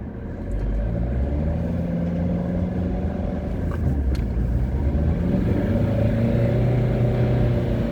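A car drives on a snowy road near Annecy, its engine a steady, close rumble that swells slightly as it accelerates, with no talk over it.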